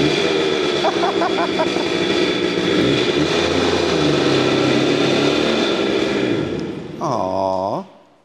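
An old two-stroke motorcycle from the mid-1970s runs steadily and loudly up close, its engine drone filling the scene before it drops away, followed by a brief rising-and-falling rev near the end.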